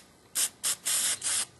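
Four short hissing bursts of spray paint from an aerosol can, close up, each a second or less with brief pauses between.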